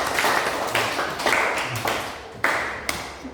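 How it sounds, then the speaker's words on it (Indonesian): Classroom applause for a student group, a dense steady wash of many hands clapping with a few sharper slaps, close and continuous. "Kita tepuk tangan dulu untuk kelompok 3."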